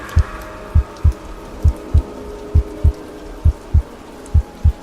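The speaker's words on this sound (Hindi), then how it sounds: "हमें अपने दिल धड़कने की आवाज साफ सुनाई दे रही थी, जो किसी इंजन की तरह धड़कने लगा था।" A heartbeat sound effect in a Hindi horror story, loud and close: about a dozen deep thumps, mostly in double beats, at a steady pace over a low hum.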